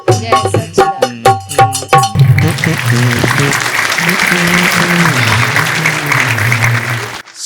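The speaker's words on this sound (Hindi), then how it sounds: "ताली।" After a few closing sung notes of devotional singing, an audience breaks into sustained clapping that continues for several seconds, loud and close, with voices under the applause.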